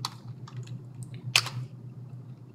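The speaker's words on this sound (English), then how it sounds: "let's hit the Control button on the keyboard" A Control key pressed on a computer keyboard, a few soft taps followed by one sharper, louder keystroke, close and quiet.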